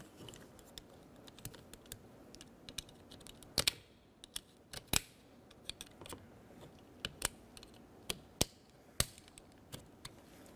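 A small screwdriver pries a plastic power window switch loose from the passenger door of a 2004-2006 Scion xB, giving scattered sharp plastic clicks and snaps at irregular intervals over a quiet background, close and crisp.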